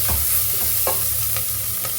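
Onions sizzle steadily in a hot pan, with a few soft scrapes of a spatula stirring them, close and continuous.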